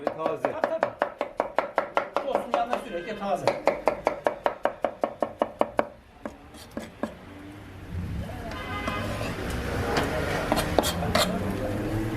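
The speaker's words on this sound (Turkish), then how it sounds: "O pişerken biz soğanımızı doğrayacağız abi" A knife chops onions quickly on a board in an even, rapid rhythm, then slows to a few scattered cuts before a softer sizzling background takes over.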